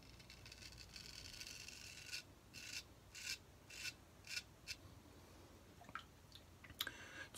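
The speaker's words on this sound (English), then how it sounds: "Rub the alum again." An alum block rubbed over freshly shaved skin during a straight-razor wet shave, giving faint, close, repeated rasping strokes in short rhythmic bursts, alone with no talking.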